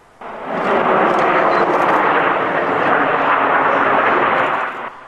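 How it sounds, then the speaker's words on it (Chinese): Red Arrows aerobatic jets flying in a nine-aircraft formation at an air show make a loud, sustained broadband roar that swells in quickly, holds steady for several seconds, then cuts off. "无论是九架飞机的人字形编队冲场，或是代表性的钻石队形"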